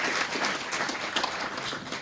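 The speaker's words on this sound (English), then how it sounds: "Another round of applause, ladies and gentlemen, for Mr. Sonkhe S'khatsi." An audience at a fatherhood convention applauds for a speaker, a continuous mid-distance patter of many hands clapping at steady loudness.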